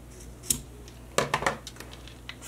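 Scissors snip through cord for a handmade dog collar, a few sharp crisp cuts with small clicks and rustles in between, close by and without talk.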